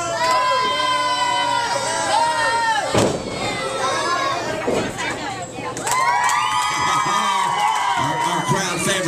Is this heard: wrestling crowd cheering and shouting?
yes